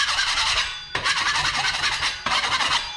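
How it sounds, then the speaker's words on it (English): A scraper rasps across a drywall patch area after nail pops are fixed, in three loud, close strokes, each a sustained gritty scrape with short pauses between them. "We're just gonna quickly scrape everything."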